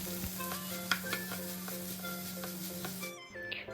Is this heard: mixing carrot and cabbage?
yes